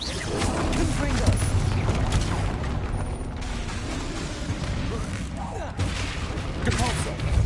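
A Confringo fire spell in Hogwarts Legacy bursts out in loud, rumbling blasts and crackling impacts amid dense combat noise, with a voice talking over parts of it.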